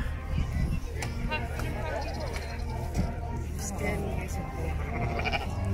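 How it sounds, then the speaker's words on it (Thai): Sheep bleat on an English farm during a hot summer, calling loudly and up close over steady background noise while people talk nearby. "โอ้โหน่ารักคลาสสิกชีพเพื่อนๆดูหน้าตาเขาจะไม่เหมือนแกะทั่วไปเลย"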